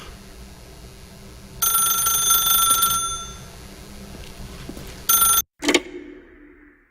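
An old-fashioned telephone rings in The Stanley Parable video game, a loud, steady electronic trill in bursts, the last cut off abruptly, with no talking.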